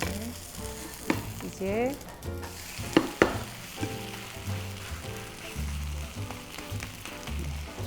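A Korean water dropwort and squid pancake fries in oil in a pan, giving a steady close sizzle with scattered crackles and a few utensil scrapes, and a voice speaks briefly.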